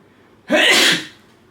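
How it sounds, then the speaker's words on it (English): A single loud, close sneeze bursts out after a quiet lead-in, then fades into room tone. "one sec, I gotta sneeze."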